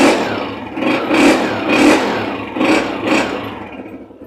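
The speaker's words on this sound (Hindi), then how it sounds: "तो स्टार्ट करने से पहले हम इसकी इग्निशन स्विच ऑन करने के बाद इसमें हम किक लगाएंगे।" A motorcycle engine idles after being kick-started, with its throttle blipped in several short revving surges that rise and fall, loud and close, with no talk.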